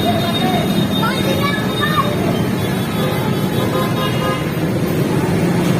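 Steady, loud road traffic on a Philippine street jammed after a truck snagged power lines and toppled a utility pole, with a continuous engine rumble and a few short car horn toots throughout.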